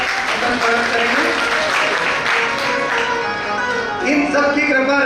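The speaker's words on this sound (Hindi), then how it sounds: "तो ऐसे कुमावत परिवार के लिए जोरदार ताली द्वारा अपन स्वागत करेंगे।" Loud applause from an audience welcoming a family at a gathering, sustained clapping throughout with voices and a tonal speaking or singing voice running over it.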